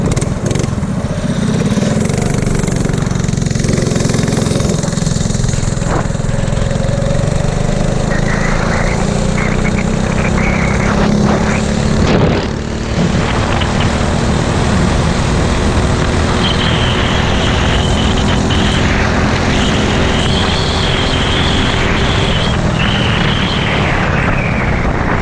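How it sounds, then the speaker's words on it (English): A mini bike engine running steadily on a track, a loud continuous buzzing drone that shifts in pitch as the bike rides, close by and alone with no talking. "My son's trying out his new bike, just trying it out on the track."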